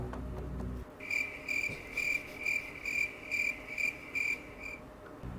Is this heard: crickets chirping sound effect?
yes